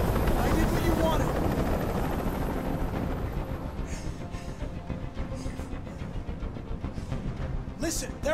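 In a Detroit: Become Human hostage standoff, a helicopter churns overhead as a loud, continuous rotor roar that thins slightly over time while a voice cuts in with short bursts.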